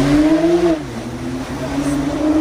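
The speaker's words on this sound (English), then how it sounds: "You hear the turbo?" A decat Porsche Turbo S accelerates with a loud, close engine note whose pitch climbs, dips at a gear change and climbs again, with a turbo whine over it.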